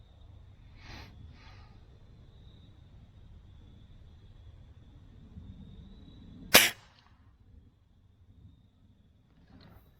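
A single sharp crack from a Diana 34 T06 Classic .177 air rifle rings out close and loud, standing alone after a stretch of quiet background hum and faint breathing.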